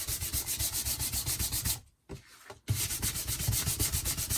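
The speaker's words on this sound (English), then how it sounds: "So, like I say, just giving it a buff." Faux leather is buffed by hand with quick, rhythmic back-and-forth rubbing strokes, close and fairly quiet, pausing briefly in the middle before resuming the same steady scrubbing pace.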